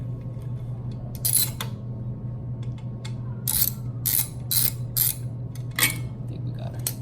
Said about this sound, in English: We grab the wrench again.